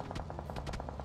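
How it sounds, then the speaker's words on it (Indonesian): Rapid automatic gunfire from the PUBG Mobile video game: a short, evenly spaced burst of sharp shots, fairly faint, with no talking. "Ini nembakin gue."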